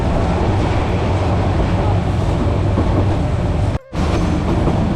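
Loud, steady rumble and clatter of the Mohanagar Provati passenger train running from Dhaka to Narsingdi, continuous rail and carriage noise with one brief dropout near the end.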